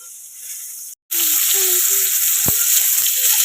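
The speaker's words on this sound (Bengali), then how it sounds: "এই যে এখানে হচ্ছে পটল ভাজা" Pointed gourd (potol) slices fry in oil in a home kitchen, loud and near, a dense crackling sizzle that cuts in after a short pause, with faint background voices and a sharp tap.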